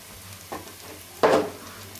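Something sautés gently in a pan before tomatoes go in, a soft sizzle broken by two short stirring scrapes, the second louder, over a low steady hum.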